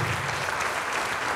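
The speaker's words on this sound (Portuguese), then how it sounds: "Vamos aplaudir" A church congregation applauding, dense continuous clapping from many hands, loud and sustained throughout.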